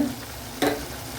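Tomatoes and spices sauté in a pan for a spicy mushroom gravy: a soft continuous sizzle broken by one quick stirring scrape.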